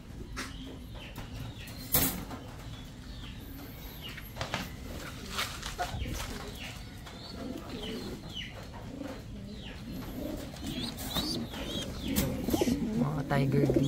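Ice pigeons coo in soft, repeated low calls, fairly faint and near, with scattered chirps and some rustling in the background while people talk quietly.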